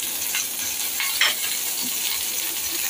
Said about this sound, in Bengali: পটলটা কিন্তু আমি এই অল্প তেলেই ভাজবো